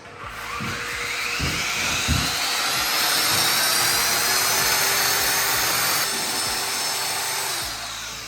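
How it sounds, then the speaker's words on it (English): A power sander runs steadily on a clamped wooden stair tread with a bullnose edge, a loud continuous whine that holds for several seconds before easing off near the end. "Take the clamp the piece down, and just go at it with the sander."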